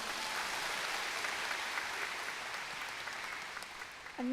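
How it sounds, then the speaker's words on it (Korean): Steady applause from a large church audience, dense and continuous throughout, fading slightly toward the end. "마지막으로 힘찬 응원의 박수 부탁드리겠습니다."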